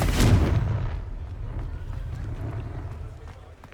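A Confringo blasting spell goes off in Hogwarts Legacy, a heavy booming explosion that hits at once and then fades into a long low rumble.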